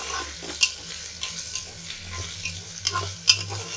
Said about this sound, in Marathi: आता त्याच्यामध्ये कैरीची फोडं टाकते. जरा म्हणजे कसं तेलामध्ये चांगलं सगळं हलवून घ्यायचं.